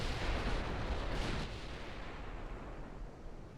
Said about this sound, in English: Donegal, start firing at Trento.